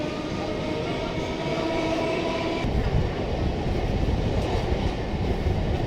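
Local passenger train on the Kakdwip to Namkhana line rolling along loudly and steadily, a dense rumble of wheels and carriages with rhythmic rail clatter throughout.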